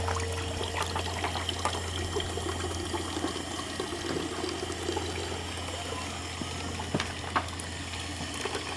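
Apple juice pours steadily from a screw fruit press, a continuous close trickling and splashing stream over a low steady hum, with no talking.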